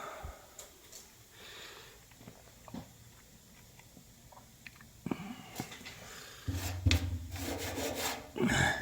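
Hand sanding scratches and rubs against the underbody of a 1970 Chevrolet Camaro, with irregular faint strokes that grow into louder, denser rasping passes toward the end, close by.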